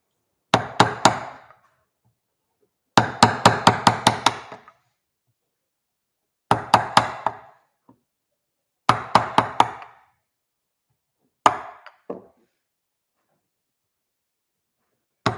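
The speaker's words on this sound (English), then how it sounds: "Mallet time." A mallet strikes a woodcarving tool in bursts of four to six rapid, sharp knocks, grouped into five separated flurries with short silences between them, close and clear with no talking.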